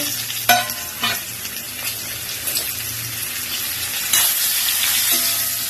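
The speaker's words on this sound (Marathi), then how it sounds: "सगळ्याला चांगलं मिक्स करून तुम्ही बघू शकतो" Mango curry with turmeric and chili powder is stirred in a pan, giving a constant close sizzle. Several scraping strokes of the spoon stand out above it.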